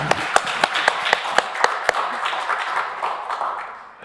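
A church congregation at Sunday worship claps in unison, steady sharp beats at first that loosen into a longer round of applause, close and fairly loud.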